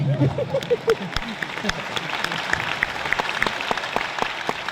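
An audience at a seminar claps steadily throughout, a dense patter of many hands at moderate distance, with a voice briefly audible at the start.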